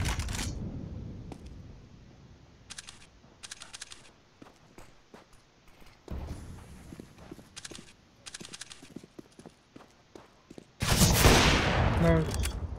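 Desert Eagle pistol shots in the Counter-Strike: Global Offensive video game, as single sharp cracks spaced out across quieter in-game ambience, ending in a loud, dense burst of noise.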